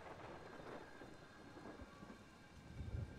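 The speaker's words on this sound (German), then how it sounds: "Oh, Gewitter wieder." A thunderstorm in Everybody's Gone to the Rapture: steady hissing rain with a low thunder rumble swelling near the end, quiet and continuous with no voices.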